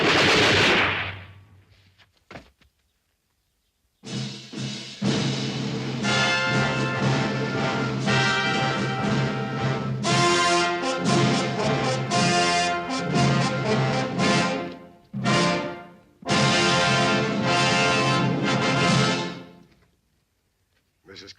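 A volley of rifles goes off at once in a western film, a single loud crack that fades over a second, followed by a long stretch of other loud film sound.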